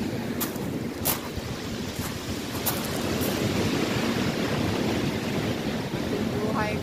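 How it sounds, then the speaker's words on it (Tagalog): Ocean waves roll onto a beach in a continuous, loud wash of surf, with wind buffeting the microphone and a few sharp gusts or splashes standing out over the steady roar. "Ang bibilang ng alon."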